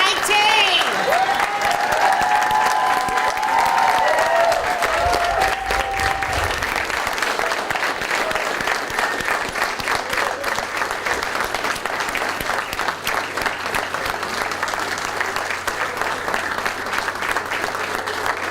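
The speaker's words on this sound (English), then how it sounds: "Please give a round of applause to the class of 2019." Sustained applause from a graduation ceremony audience honoring the class of 2019 fills the hall, dense and steady, with some cheering and voices mixed in near the start.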